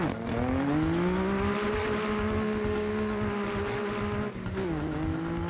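Steady engine drone from a 170-horsepower car driving a touge mountain road in the racing game Assetto Corsa. The revs climb slowly, hold, then dip briefly near the end as the car shifts or lifts, with no voices over it.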